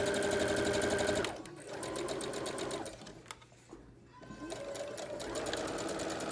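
Sewing machine stitching and backstitching the pocket of a scarf skirt, running in close, steady bursts with short pauses between them.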